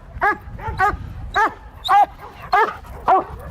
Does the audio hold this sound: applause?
no